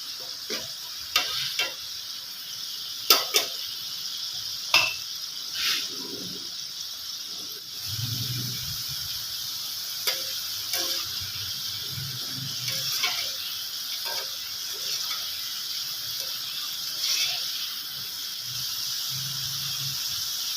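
Potato strips fry in hot oil for crispy french fries, a steady close sizzle and hiss with occasional stirring knocks and scrapes throughout, no voices.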